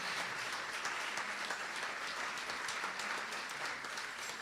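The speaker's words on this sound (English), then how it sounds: "would you please give them all a round of applause too?" Audience applause at an awards ceremony, a full room clapping in a dense, even roar that holds steady for several seconds, with no speech on top.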